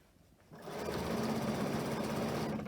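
A sewing machine starts up and stitches around a fabric scrunchie with a steady, close, buzzing whir of rapid needle strokes after a short quiet moment.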